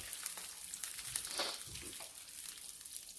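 Food frying in hot oil for a marinara sauce, a faint, steady crackle and hiss running throughout with no voices.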